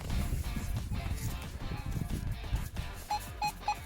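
Three short, mid-pitched electronic beeps from a metal detector in quick succession near the end, following a stretch of scraping and thudding as heavy soil is dug.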